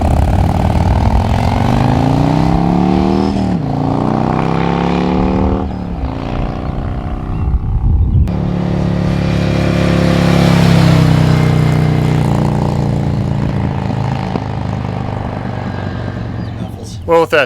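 A Harley motorcycle fitted with Khrome Werks HP Plus baffles rides on the road, its loud, close engine rising and falling through several gear changes as it accelerates, with a steady rumble and wind throughout.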